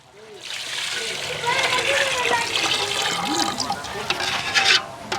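Water poured into a pot for prawn biryani, a rushing, splashing pour that swells after the first second and runs steadily, with people talking over it.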